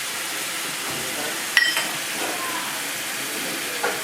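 Cumin and coriander powder sizzling in hot oil while chicken kosha is being cooked, a steady soft hiss throughout with a brief sharp clink of a utensil partway through.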